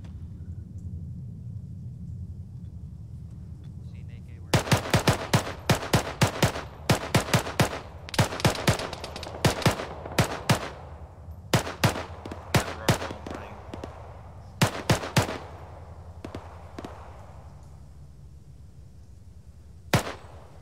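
Gunfire in a military tactical video game during a squad field exercise: after about four seconds of low rumble, rapid irregular volleys of sharp, loud shots crack out, pause briefly, resume, and end with one last isolated shot.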